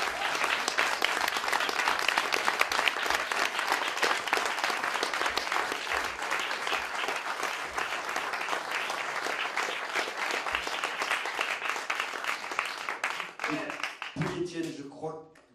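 A concert audience applauds a visiting songwriter from Normandy with sustained, dense clapping that fills most of the stretch, then fades out as a voice begins speaking near the end.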